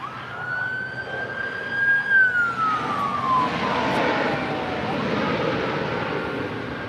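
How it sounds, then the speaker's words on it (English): An Alaska Airlines Boeing 737-900ER jet landing at LAX, its engine whine sliding steadily downward in pitch over a broad roar, fairly close and continuous, with no talk. "That is Alaska Airlines Flight 250 coming in from Puerto Vallarta on a 5-year-old 737-900ER."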